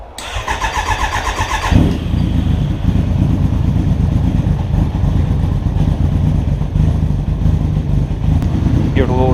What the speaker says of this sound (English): All right, let's crank it over.